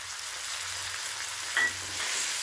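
Ginger, curry leaves and coriander leaves sizzle in a pan while being stirred, a steady soft hiss with a low hum beneath and one brief scrape of the spoon near the middle.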